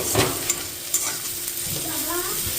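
Beetroot frying in a pan sizzles steadily up close, with a few sharp clinks and scrapes of stirring and no voices.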